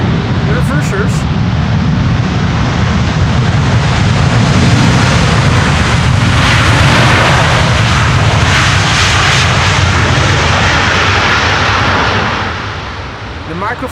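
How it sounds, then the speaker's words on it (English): Airbus A350 landing on Schiphol's Polderbaan runway in a crosswind, its thrust reversers roaring loud and broadband as it passes close, a sustained engine rush that fades near the end, with talk faint underneath. "you could hear the A350 and its reversers pass by quite clearly just now"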